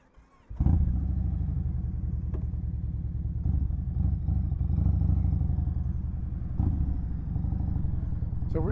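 A motorcycle engine starts up with a sharp catch, then rumbles steadily and close while riding out through the countryside, with a few shifts and small surges in throttle, with no talking over it.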